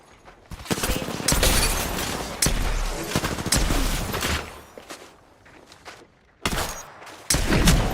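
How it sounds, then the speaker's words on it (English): Gunfire in a shooter video game comes in several loud, close bursts of rapid shots, separated by short quiet gaps, with a final burst at the end. "Opening fire."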